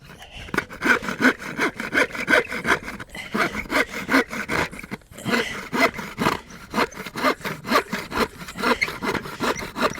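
Wood being hand-sawn to make a fire-making spindle, a close, loud back-and-forth rasping in a steady rhythm of regular strokes with a brief pause midway.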